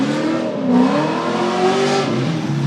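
Drift race cars, a Nissan S14 and a Supra MK3, in a tandem chase at a drift series event, engines revving hard and continuously with rising and falling pitch, loud and steady throughout.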